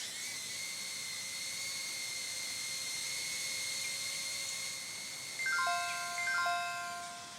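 A Snap Pixy mini drone hovers with a steady, high, thin whine that holds close and even throughout. A short run of stepped electronic beeps comes near the end.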